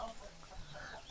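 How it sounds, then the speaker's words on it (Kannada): Native country chickens clucking inside a village poultry shed, a few soft, short clucks, faint and somewhat distant, over low background noise. "ಅಲ್ಲಿ ನೋಡಿ, ಇಲ್ಲಿ ನಾಟಿ ಕೋಳಿ ಇದೆ."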